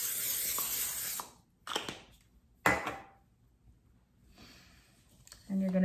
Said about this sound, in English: I spray mine with just Pam.